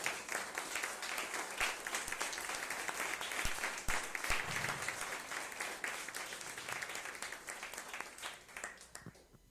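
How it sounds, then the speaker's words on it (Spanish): Sustained audience applause fills a church during a Spanish-language sermon, steady dense clapping at moderate distance throughout, fading slightly at the end. "Dale ese aplauso al Rey."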